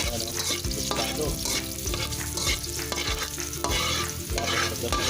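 Garlic sizzling in a hot pan for soy-braised bisugo fish, a loud, continuous frying hiss broken by regular scraping strokes of a spatula roughly every second, close up and with nobody talking.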